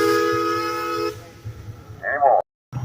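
A steam traction engine's whistle gives one long, loud, steady blast at a parade, then cuts off into crowd noise and brief voices.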